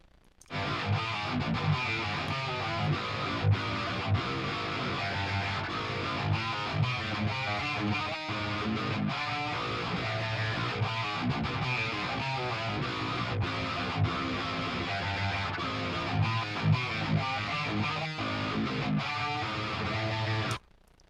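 A dense, heavily distorted djent guitar riff in a 2010 style, chugging palm-muted rhythms with a thick low end, played continuously and fairly loud with no voices.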